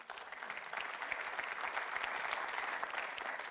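Sustained applause from a church congregation during a Sunday service, steady dense clapping that fills the room at moderate level for the whole stretch, with no talk over it.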